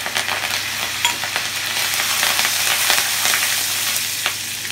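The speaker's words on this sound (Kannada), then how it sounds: "ಶುಂಠಿ ಬೆಳ್ಳುಳ್ಳಿದು ಹಸಿ ವಾಸನೆ ಹೋಗೋವರೆಗೆ ಸ್ವಲ್ಪ ಹುರ್ಕೊಳ್ಳೋಣ." Ginger, garlic and curry leaves with asafoetida fry in hot oil, a steady close sizzle and crackle running the whole time with light scrapes of stirring and no voices.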